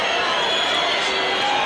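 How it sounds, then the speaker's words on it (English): Tennis crowd at the 2005 Rome semifinal between Coria and Agassi booing Coria, a dense, loud, sustained wash of jeering voices filling the stadium. "Coria getting all sorts of boos from the crowd"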